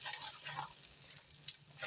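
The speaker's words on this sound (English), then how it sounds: "Cook that egg. Okay, we're just going to mix it in." An egg sizzles in a frying pan while it is stirred, a close crackling hiss with soft scraping strokes and no voices.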